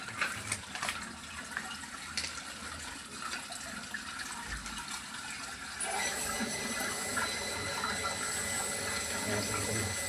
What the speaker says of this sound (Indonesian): Tak nyalakan air dulu ya teman-teman.